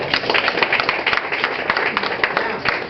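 An audience at a wholesale real estate seminar gives a round of applause for Brandon, with rapid overlapping claps and a busy, uneven texture, moderately loud and close throughout.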